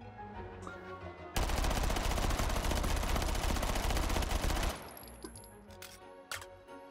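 Sustained automatic fire from an RCP-90 (FN P90) submachine gun in a VR shooter, one long loud uninterrupted burst of several seconds that cuts off abruptly, followed by faint mechanical clicks and handling noises.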